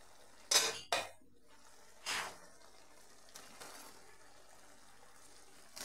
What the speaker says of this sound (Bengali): একটু নেড়ে চেড়ে নিচ্ছি ঢাকা তুলে।